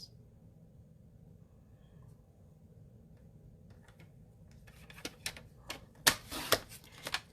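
Cardstock is trimmed for a handmade fun-fold card, with quiet crisp clicks and snips near the end that build into a few louder, sharp cuts. No one speaks.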